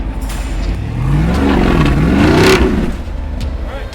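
An off-road vehicle's engine revs and strains as it climbs a rock ledge on the Rubicon Trail's Soup Bowl obstacle, the pitch rising and falling through several loud surges with clattering underneath.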